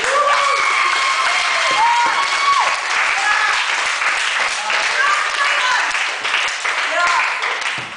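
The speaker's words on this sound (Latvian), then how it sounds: "Aplausi" An audience breaks into loud, sustained applause, with cheering and shouting voices rising above the clapping throughout.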